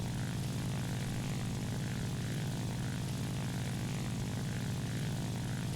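La-9 propeller fighter in flight in War Thunder, a steady loud droning engine with a constant low hum and no talk over it.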